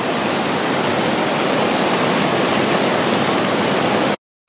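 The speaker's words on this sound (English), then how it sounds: "This river has a high velocity and it's moving really fast." Fast-flowing, steep, high-gradient river with clear water rushes in a loud, continuous roar, close and steady, with no talk, cutting off abruptly just before the end.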